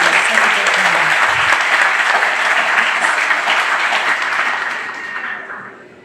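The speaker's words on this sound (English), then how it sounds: "If we can give her a round of applause for doing that." A crowd at a county fair opening ceremony applauds steadily for several seconds, a dense wash of clapping that tapers off toward the end.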